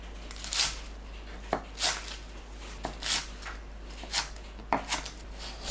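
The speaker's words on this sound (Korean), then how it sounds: "부추를 2cm에서 3cm 길이로 썰어주세요." Chives being cut into short lengths with a kitchen knife on a board: a handful of sharp, separate knife taps spaced irregularly about a second apart, close and fairly quiet over a faint steady background hum.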